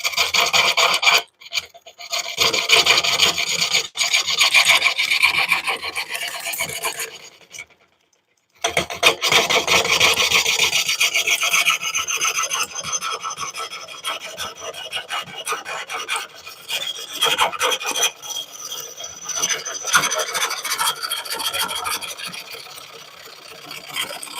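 A turning tool rides the bevel as it cuts a large wooden bowl on a lathe, giving a steady, loud rasping and scraping that runs almost continuously, with one brief pause partway through.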